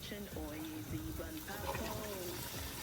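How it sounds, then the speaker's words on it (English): Water poured into fried rice in a pan gives a soft, continuous splashing hiss, faint and partly under a person talking throughout. "the next thing is to add my water."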